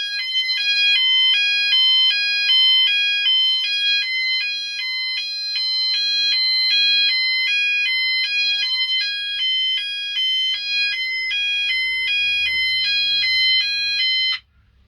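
An EMS FirePoint 5004 fire alarm panel sounds in fire mode, a loud, steady two-tone electronic warble that alternates rapidly and evenly for the whole stretch, then cuts off abruptly at the end.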